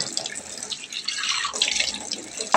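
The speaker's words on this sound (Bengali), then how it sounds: "মিক্সি এইটা একটু জল দিয়ে ধুয়ে" Water from a tap splashes and drips into a kitchen sink as a mixer grinder jar is rinsed, a light continuous wash close by that swells toward the end.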